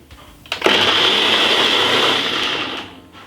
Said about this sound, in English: we're gonna blend this up now